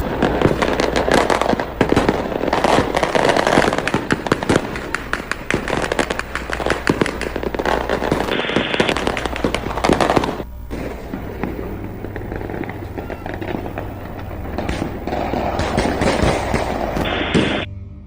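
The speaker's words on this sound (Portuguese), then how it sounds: "expressa através de intensas queimas de fogos" Intense celebratory fireworks in Rio de Janeiro communities, a dense continuous barrage of loud crackling bursts and booms, thinning briefly midway before picking up again.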